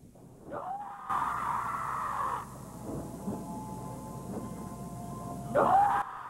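Cartoon bird cawing, a few loud, drawn-out harsh squawks set against music, with a sharp call at the start and another near the end.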